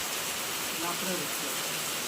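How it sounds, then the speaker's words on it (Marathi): Heavy rain pours down in a dense, steady hiss that stays even throughout, with a faint murmur of voices underneath. "पागोळ्या पडल्या एवढा पाऊस पडला"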